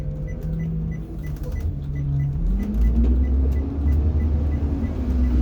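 An empty school bus drives toward a high school, its engine droning steadily and rising in pitch as it gains speed, with a low road rumble underneath and no talking.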